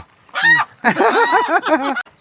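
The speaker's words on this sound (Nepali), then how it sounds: "कुखुरा पनि समाउँदै हुनुहुन्छ यहाँनिर" A chicken squawks and cackles loudly while being grabbed and caught by hand, in a short burst followed by a longer, agitated run of harsh calls.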